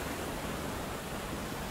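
A waterfall on the Água Branca river near Ubatuba, a deep swimming hole below its drops, pours with a steady, dense roar of broadband rushing water, close and unbroken throughout, with no voices.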